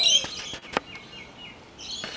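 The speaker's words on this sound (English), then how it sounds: "you train, you only listen to the birds" Short high bird chirps and tweets sound at the start and end, with a brief sharp rustle in the middle, in an otherwise quiet outdoor setting.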